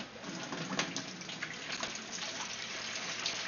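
Fresh tap water runs steadily into an aquarium tank for threadfin fish, a close, continuous gushing splash with brief louder surges, no voices.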